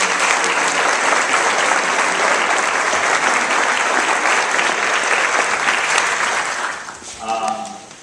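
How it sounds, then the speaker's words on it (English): Sustained round of applause from a workplace audience gathered to thank staff from outlying sites, dense and steady for about seven seconds before tapering off as a voice begins speaking. "I'd like everyone to give them a round of applause"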